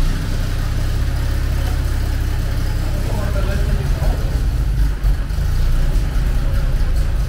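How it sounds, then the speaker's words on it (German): A Jaguar E-Type Series 3 V12 engine runs steadily at idle with a deep, continuous rumble, close by, while people talk over it. "Und jetzt lassen wir den Motor starten."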